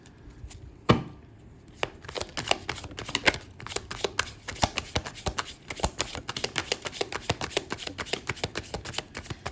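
Tarot cards being shuffled and pulled for a reading: a dense run of quick, crisp riffling snaps close up, steady for several seconds with no talking.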